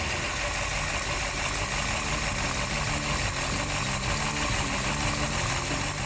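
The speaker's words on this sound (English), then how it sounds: "By the sound of it, you'd think that the 427 in our black Galaxie was built by a racing engine shop" A 1964 Ford Galaxie 500 with a 427 V8 and 4-speed idles loud and close, a dense, steady rumble with a slightly lumpy, choppy pulse throughout, no voices.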